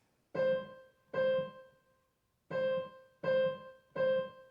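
Five separate piano notes on a single repeated pitch, played close in an uneven rhythm with a longer gap after the second note.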